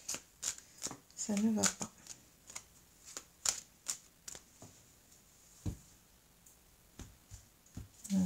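Tarot cards being shuffled and handled up close, with a string of sharp riffling flicks and taps at an uneven pace, while someone speaks softly in French.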